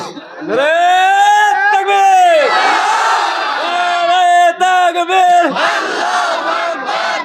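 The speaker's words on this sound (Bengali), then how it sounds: "একটা তাকবীর দেন তো দেখি" A crowd at an Islamic sermon gathering roars takbir, 'Allahu Akbar', in loud sustained unison shouts, two long drawn-out call-and-response swells close to the microphone, followed by lingering crowd noise.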